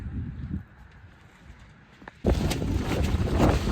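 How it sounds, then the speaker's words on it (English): Wind rushes and buffets hard against the microphone, starting low and then gusting suddenly louder into a steady roar. "Look how windy it is."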